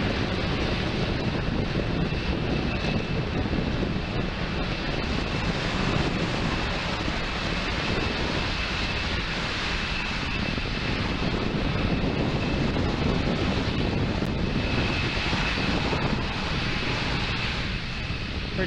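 A SpaceX Falcon 9 rocket launching from Space Launch Complex in Florida with a Catalan nanosatellite aboard gives a continuous, heavy roar, broad and rumbling with a wind-buffeted texture, holding loud and steady for the whole stretch.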